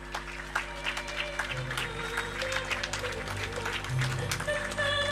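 At a health sciences graduation and oath ceremony, a hall audience claps to welcome the graduates. The applause is moderate and somewhat distant and sits over a steady music background.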